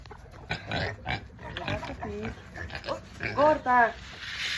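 Pigs grunt and squeal in short bursts while waiting to be fed, close by, with a person talking over them and some doglike whimpering mixed in.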